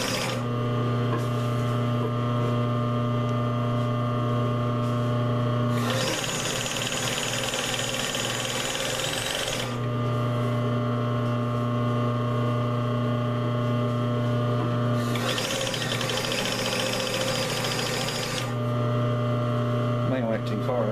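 A sewing machine stitches fabric in two loud, buzzing runs of about three to four seconds each, set against a steady low motor hum that carries on between them.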